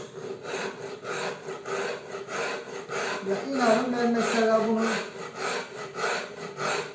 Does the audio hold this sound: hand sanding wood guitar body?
yes